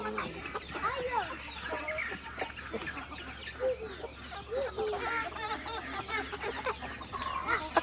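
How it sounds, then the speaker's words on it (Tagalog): A mother hen on a small backyard chicken farm clucks repeatedly in soft, close bursts, with faint voices and other fowl noises around her. "that's a mama hen"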